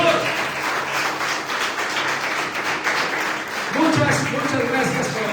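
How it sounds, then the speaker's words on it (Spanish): A church congregation at the Misión Vida Bosa service applauds in a sustained, dense wash of clapping from many hands, with voices rising within the crowd noise near the end. "Dale un aplauso al Señor."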